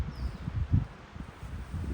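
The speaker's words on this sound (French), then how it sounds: "Là, il y a du vent, quelques oiseaux, c'est magnifique." Wind stirs through a forest with a steady low rustle and gusty rumble, while a single faint bird call sounds briefly in the distance.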